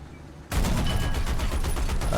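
Anti-aircraft guns in the War Thunder video game open up suddenly after a quiet moment and keep firing as a rapid, loud, continuous burst of shots.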